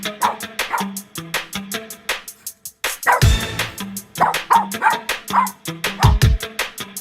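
An excited pet dog barks repeatedly at an enemy it has found, loud and close, in quick bursts of sharp yips and woofs separated by brief pauses.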